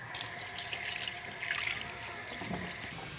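Tap water runs steadily into a kitchen sink for washing during food preparation, a continuous splashing hiss that stays fairly loud and even throughout, with no talking.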